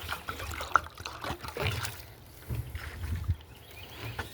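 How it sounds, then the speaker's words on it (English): Water poured from a container into two dog bowls for American Bully dogs, a close splashing trickle that swells and ebbs in uneven bursts with faint clinks, no talking. "We're gonna go ahead and fill up 2 bowls"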